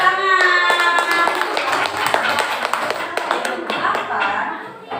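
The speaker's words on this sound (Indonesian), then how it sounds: "Tepuk tangan." A school class claps hands together, a burst of sharp, irregular claps close by over several seconds, with children's voices chattering and calling out beneath and fading toward the end.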